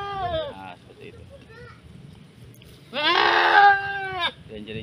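A goat being treated for mange cries out in pain with loud, wavering bleats. A short bleat comes first, then a longer, louder scream, and a person talks quietly in between.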